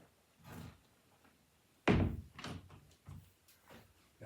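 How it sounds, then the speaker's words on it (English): A door anchor is slid under and behind a door, then the door shuts with one solid thunk, framed by quieter rustles and soft knocks before and after. "take your door anchor and to slide it under and behind the door."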